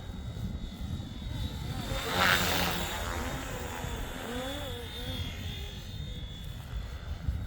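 A Flywing FW450 RC helicopter whines overhead, its rotor and motor pitch rising and falling as it makes a loud, close pass and then maneuvers, with a voice speaking briefly in the background.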